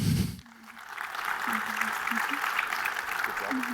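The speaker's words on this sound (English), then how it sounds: "So please, round of applause." A conference audience applauds steadily, a dense, even clatter of clapping that holds for a few seconds while a voice speaks faintly underneath.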